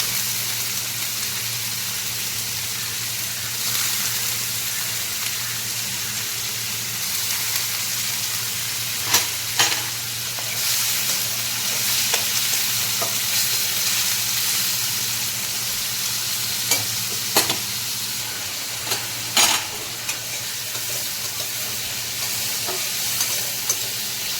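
Food sizzles steadily in a hot pan while a utensil stirs it, with a constant frying hiss broken by occasional sharp scraping clinks, close by and with no talk.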